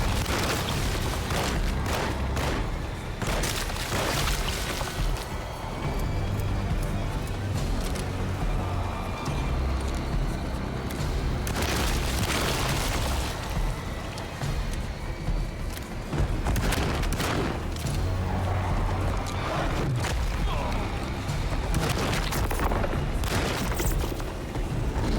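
Repeated gunfire from shooting a monster in the game Alone in the Dark, loud and dense, with booming shots and bursts rolling on continuously over a rumbling low background.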